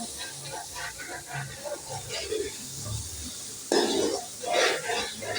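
Fresh ginger is ground into paste on a stone grinder with a rough, rhythmic scraping and grinding rasp, repeated in close, uneven strokes that grow louder toward the end.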